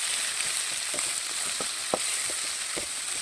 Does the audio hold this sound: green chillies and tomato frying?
yes